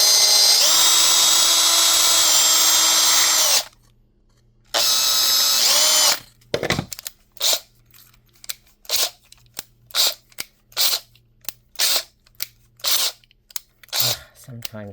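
A foot-pedal rotary power tool whines loudly in two sustained high-pitched runs while carving a miniature fairy door, followed by a series of sharp, close clicks and taps.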